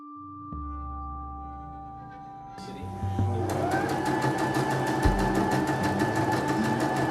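A sewing machine with a rolled hem foot hems small trim pieces. A quiet hum builds into steady, rapid close-up stitching that runs on evenly.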